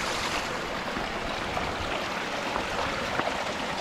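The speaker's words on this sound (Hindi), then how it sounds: "साफ स्वच्छ पानी देखिए पहाड़ों से आ रहा है" Clear spring water running down from the mountains beside a pump house near the Kosi River, a steady broadband rush that holds even and close throughout with no voices.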